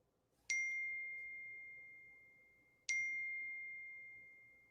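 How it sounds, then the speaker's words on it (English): Two clear notification dings from a phone, each a sharp bright chime that rings on and slowly fades, spaced a couple of seconds apart over a quiet low background hum. "it's dinging on my phone"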